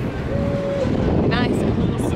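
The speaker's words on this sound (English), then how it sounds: "Quite windy up here, really," Wind buffeting a handheld microphone outdoors at a high, exposed spot in Florida, a constant low roaring rumble that fills the whole moment, with faint voices underneath.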